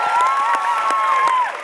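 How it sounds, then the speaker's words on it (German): An audience claps for dancers at a Sunday morning session, with a brief burst of steady, dense applause and a sustained tone in the room, and no talk over it. "Give them a hand."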